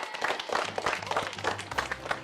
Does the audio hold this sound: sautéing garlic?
no